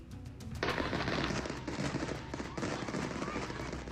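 An illegal fireworks show in Orange County bursts loudly in rapid, crackling volleys, dense overlapping pops and booms sustained throughout like gunfire, with a voice speaking over the barrage.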